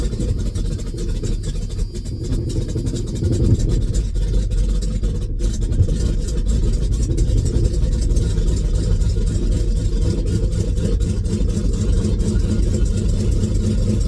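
A 1984 Ford F250 engine runs steadily after a cold start, with a low, continuous rumble and a slightly uneven idle, close and loud throughout with no talking.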